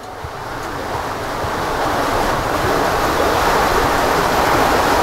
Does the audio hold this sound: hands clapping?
no